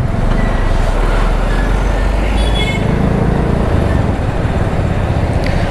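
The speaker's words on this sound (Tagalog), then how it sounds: "Sabado uwian, madaming sasakyan." Heavy Saturday road traffic with many cars, buses and trucks, a dense, loud, constant engine and tyre rumble close by, with a brief brake hiss partway through.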